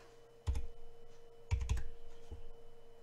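Computer keyboard keys struck during game modding on a PC, heard as a couple of short clustered bursts of clacking close up, with a final lone click and a faint background hum.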